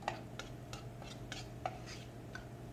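Chili ingredients are stirred together in a pot, producing soft, faint, irregular spoon taps and scrapes against the metal over a steady low hum.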